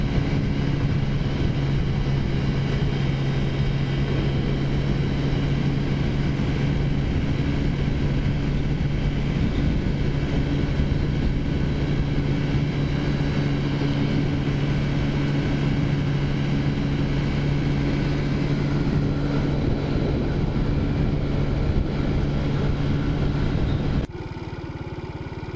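A Taotao motorcycle engine drones steadily and close during a ride, a constant low hum with wind rush and no speech, easing off right at the end.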